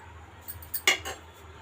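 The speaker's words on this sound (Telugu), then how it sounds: "ఇప్పుడు ఫోర్క్తో ఒకసారి బాగా కలిపేసుకుందాము" Metal fork clinking against a pan while stirring Maggi noodles, a few light scraping taps closing in one sharper clink, close and quiet.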